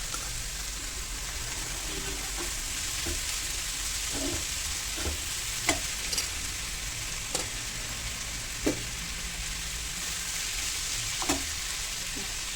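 Onion filling for samosas sizzles steadily in a pan, a continuous close frying hiss broken by occasional soft clicks and scrapes of a spoon stirring through it.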